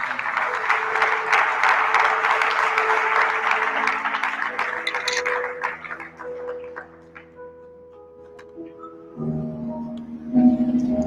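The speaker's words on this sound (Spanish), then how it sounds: "¿Le puede dar un aplauso a ese Dios tan maravilloso?" Church congregation applauding during a Spanish-language sermon, a full burst that fades over several seconds as sustained organ or keyboard chords rise underneath and carry on alone.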